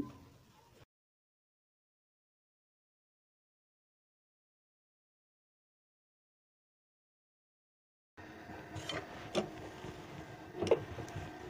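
An electric sewing machine stitches the fly of a man's pajama, a rapid mechanical clatter that starts abruptly after a long silence and runs close and steady to the end.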